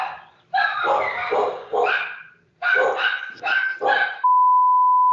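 Indoor dogs bark and yip in loud clustered bursts, pausing briefly between volleys, with whimpery edges to the calls; a steady electronic tone follows at the end.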